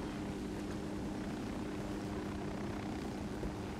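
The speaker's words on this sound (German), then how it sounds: "Ach, wo fährt der Helikopter jetzt hin?" Continuous rotor drone of a helicopter in Ghost Recon Wildlands, a steady loud hum and wash that holds level throughout with no voices over it.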